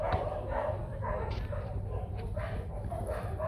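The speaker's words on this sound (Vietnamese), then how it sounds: "thấy người lạ là sẽ sủa này" White Bac Ha village dog barking at a stranger, with rough barks and whimpery yips at middle distance under continuous outdoor noise and someone talking.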